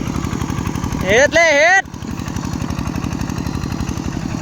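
Four-gear walking tractor ploughing a rice field, its engine chugging steadily and close throughout, with a person singing or calling out in a wavering voice over it for a moment.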